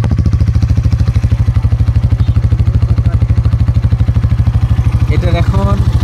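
A Hero Xtreme 160R 4V motorcycle with dual-channel ABS idles steadily in neutral after starting, its exhaust thumping in a fast even rhythm close to the mic, with a brief clatter near the end.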